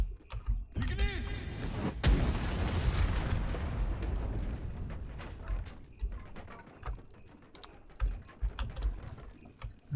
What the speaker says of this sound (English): Was anything revealed by the explosion?